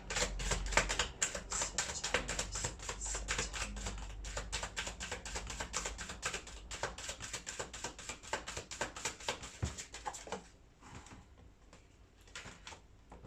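Large tarot cards being shuffled by hand at close range: a quiet, rapid run of crisp flicking riffles and taps that eases off near the end into a few sparser clicks.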